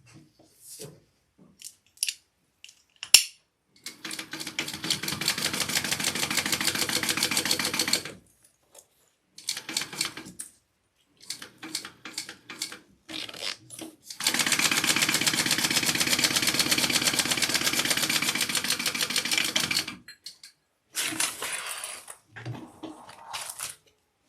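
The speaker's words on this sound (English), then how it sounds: "I'm going to sew that on at a 1/4 inch seam allowance." A sewing machine stitching a quarter-inch seam on a fabric bag, running in two long bursts of rapid, even mechanical chatter, separated and surrounded by short clicks and handling noises.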